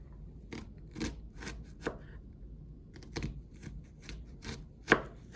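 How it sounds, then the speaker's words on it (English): An onion being sliced with a French knife in vertical cuts: a close, irregular series of crisp knife taps, about a dozen over several seconds, with a sharper strike near the end and a quiet background. "So we're going to slice into our onion, again, keeping your hands pinched on your French knife."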